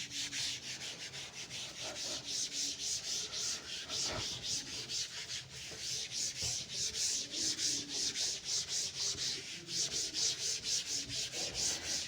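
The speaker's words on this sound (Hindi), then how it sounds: "चलिए रब कर दें इसको" A board being rubbed clean with an eraser in a classroom lesson, heard as steady, rhythmic scrubbing strokes, close and continuous for about twelve seconds, with no one speaking.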